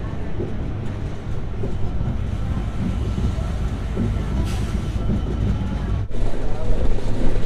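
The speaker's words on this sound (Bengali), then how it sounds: "ট্রেন ভাঙ্গা জংশন থেকে ছেড়ে যাচ্ছে" An express train pulls out of Bhanga Junction station in Bangladesh, heard from on board as a steady, loud rumble of wheels and carriages with broadband rail noise that swells slightly near the end.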